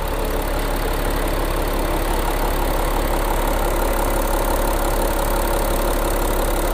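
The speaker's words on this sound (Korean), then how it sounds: "엔진 소리도 일정하네요." An Audi A6 3.0 TDI quattro diesel engine idles steadily and loudly up close, its even, unbroken rumble filling the whole stretch with no talking.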